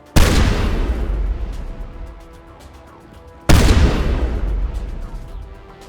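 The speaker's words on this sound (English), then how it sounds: "Explosive round shotgun." Explosive-round shotgun blasts in the Mass Effect video game, two loud close booms a few seconds apart, each with a long decaying rumble.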